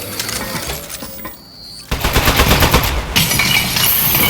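In the video game Aperture Desk Job, a turret lets off loud, rapid automatic bursts of gunfire. A brief lull comes first, and then a sustained, dense stream of shots follows.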